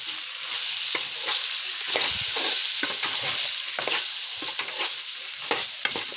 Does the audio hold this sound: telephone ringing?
no